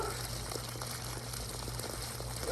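Steady rushing and gushing water from koi pond filters being flushed, a continuous broadband wash with a low pump hum underneath, close and even throughout.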